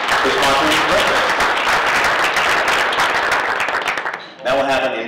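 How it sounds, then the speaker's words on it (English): Audience at a West Los Angeles Chamber of Commerce breakfast applauding, dense sustained clapping filling the room, tapering off before a voice resumes over scattered claps near the end. "let's have a round of applause for our sponsor today for sponsoring this breakfast."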